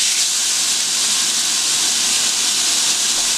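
A T-bone steak searing in a hot cast iron skillet gives off a loud, steady, close-up hiss that holds unbroken throughout with no voices.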